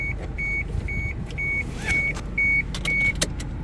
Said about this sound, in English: that's just beeping at me because I've got my seatbelt off